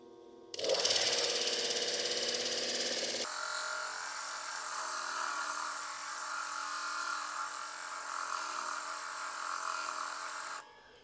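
A lapidary polishing machine runs a gemstone on a 180 grit wheel, a steady high whirring grind that starts abruptly, settles into a continuous smooth drone with no talk, and cuts off near the end.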